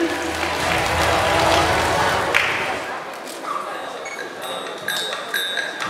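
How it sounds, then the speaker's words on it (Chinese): An audience claps in welcome for performers at a Taiwanese fan meet in Tainan: strong, dense applause for about three seconds that fades out, followed by scattered light clinks and thumps. "掌声欢迎"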